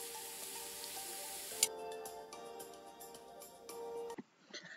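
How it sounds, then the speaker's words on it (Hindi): Chopped garlic fries in a pan with a soft, steady sizzle and hiss, quiet and close, with a few faint ticks and clinks near the end. "बस अब इस लहसुन को मैं थोड़ी देर ऐसे भून लेती हूँ, ताकि उसका हल्का सा कच्चापन चला जाए।"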